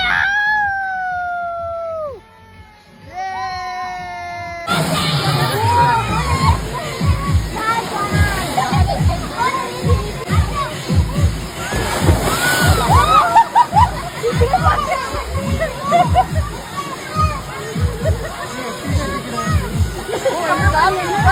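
A crowded water park in Dapoli rings with constant splashing and sloshing water and a busy crowd. Voices chatter throughout, and a few clear high calls come briefly before the water noise swells in.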